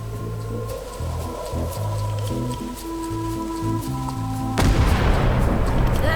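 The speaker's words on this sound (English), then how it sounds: "Ready for cannon firing." A cannon fires in the pirate adventure game Return to Monkey Island, a sudden loud boom with a crackling burst that breaks over a steady droning game music bed and rings out to the end.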